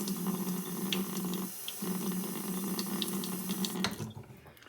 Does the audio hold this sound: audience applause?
no